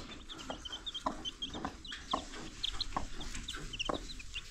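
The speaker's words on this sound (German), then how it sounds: "Ich finde das immer Wahnsinn, wie viele Küken unter so eine Henne passen" A hen clucks among her chicks on a farm, repeated soft clucks in an irregular rhythm close by, with high chick peeps scattered throughout and no talking.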